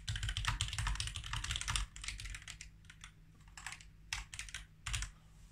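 Typing on a KEMOVE K68SE compact mechanical keyboard with brown switches: close, crisp key clicks in fast bursts and pauses, with a brief quieter gap before a few separate keystrokes.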